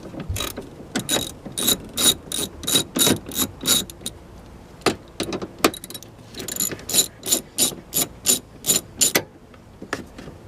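A ratchet clicks in quick bursts while backing out 13mm fasteners from the battery brace bar on a 2017 Chevy Silverado 1500 with a 5.3 liter engine, close and crisp, with short pauses between bursts.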